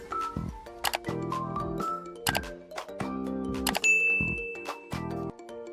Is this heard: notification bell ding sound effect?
yes